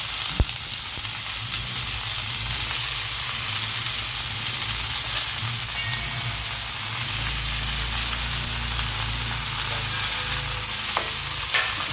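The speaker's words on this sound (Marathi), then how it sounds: "आता आपण हे धुवून घेतलेली कांद्याची पात घालूया" Chopped spring onion greens and dried fish frying in a pan, a steady close sizzle and crackle with stirring scrapes running throughout, no voices.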